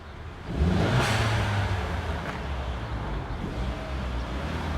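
A blue Renault Megane turning around gives a steady engine hum with a brief rise in revs early on, then settles into a low, even drone nearby.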